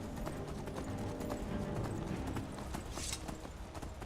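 In the video game Skyrim, rapid, steady clip-clop of galloping horse hooves over a constant rumbling background, with a brief brighter rustle near the end.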